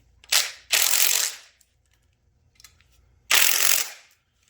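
A ratchet wrench tightens timing cover bolts on an LS engine, giving three close, loud bursts of rapid clicking, two in quick succession and one after a pause, with faint handling noises between.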